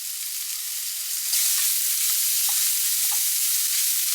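Creamy chicken sausages sizzle steadily in a pan, a dense continuous frying hiss that swells slightly partway through, with a few soft utensil scrapes and taps scattered over it.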